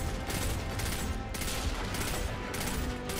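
Rapid bursts of gunfire from a Destiny 2 firefight crackle continuously and loudly, dense overlapping shots with no talk over them.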